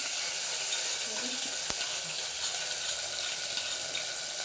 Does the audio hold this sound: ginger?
yes